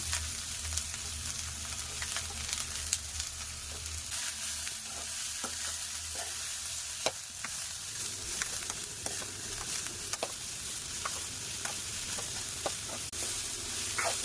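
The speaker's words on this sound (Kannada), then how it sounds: "ಈರುಳ್ಳಿ ಕಟ್ ಮಾಡಿ ಇಟ್ಕೊಂಡಿದ್ವಲ್ಲ ಅದನ್ನು ಹಾಕ್ಬಿಡೋಣ" Chopped onions frying in a pan for cabbage upma give a constant, close hiss of hot oil, steadily sizzling, while spatula scrapes and light clicks of stirring recur throughout, with no speech.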